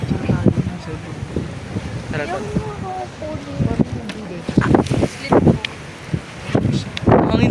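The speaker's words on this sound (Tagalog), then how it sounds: "Hangin dito." Gusty wind buffeting the microphone with low rumbles at a mall, while people talk and call out nearby.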